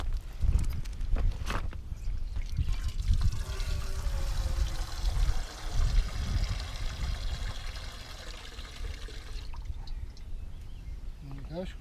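Water poured into a bowl for a dog named Barney at a woodland camp, a continuous trickling splash under close rustling and footsteps, with a voice speaking over it.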